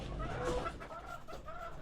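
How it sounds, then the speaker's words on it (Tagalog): A few backyard chickens, about four months old, cluck softly nearby in short bursts, a brief, quiet stretch of farmyard sounds with no talking. "Ayan yung mga alaga kong manok."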